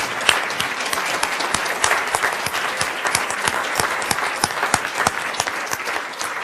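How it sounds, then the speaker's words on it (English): Audience at an immigration reform policy event applauds heartily, steady dense clapping with distinct sharp claps standing out, continuous and close for several seconds. "we have to give a huge round of applause to Arlene, Joanna, Nicole, and Emily"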